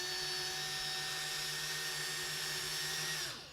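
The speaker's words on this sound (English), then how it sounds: "I'm going to braid it myself using the power of the drill" A power drill twists picture wire into a braid with a loud, steady high-pitched whine that holds for about three seconds and then winds down as the motor slows at the end.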